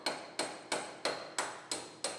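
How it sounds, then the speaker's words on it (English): Seven sharp metallic impacts land at an even pace, each a loud ringing strike of a hammer driving a breaker through spot welds in the sheet-metal roof of a Chevrolet Silverado, close by. "Hammer our breaker through, break all these spot welds out."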